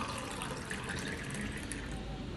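Water poured back and forth between two containers and shaken, a steady close rush of splashing and gurgling liquid that runs continuously without pause.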